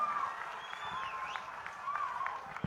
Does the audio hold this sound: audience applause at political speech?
yes